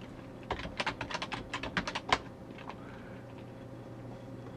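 A computer keyboard typed on in a quick burst of about a dozen close clicks while entering Linux terminal commands, followed by quiet; no talk.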